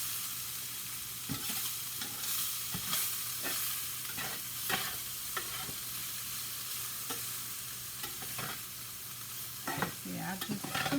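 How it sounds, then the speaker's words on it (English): Flounder cooking in a pan and being crumbled into flakes for a wrap, heard as a steady sizzle with repeated scraping and tapping of a utensil, close and alone without talk. "I just cook it and crumble it all up so it gets flaky because it's going in a wrap"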